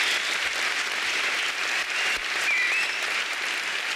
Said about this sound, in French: un tonnerre d'applaudissements pour Barry